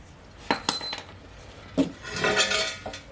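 A metal nut and bolt are handled during a bolt-style subframe connector install: a few light clinks and rattles, close and quiet, separated by short pauses.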